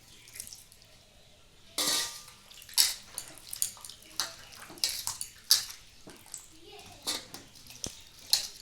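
Cut kakrol (spiny gourd) pieces are washed by hand in a bowl of water, giving close splashes and sloshes in irregular bursts, with faint clinks of a pot and a brief voice in the background.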